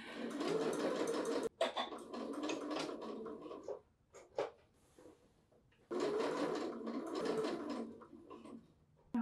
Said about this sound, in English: I'm stitching right to the end